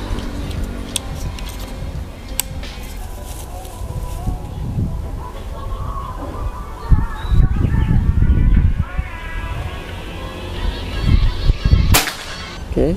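A single sharp, snappy shot from a PCP air rifle (Predator 500cc) rings out near the end, standing out against a steady background of outdoor noise and low rumble.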